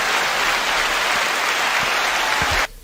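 An audience at a church gathering claps steadily, a loud, dense wash of applause that stops abruptly near the end.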